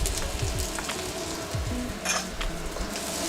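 Garlic, ginger and green onion whites hiss and sizzle steadily in a hot cast iron pan, close and continuous, with occasional utensil scrapes and stirring clatter.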